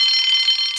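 An alarm bell rings continuously, steady and fairly loud, with no pauses or talk, in a Thomas the Tank Engine story about the breakdown train.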